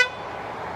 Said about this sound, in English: Go ahead and hit your horn for me.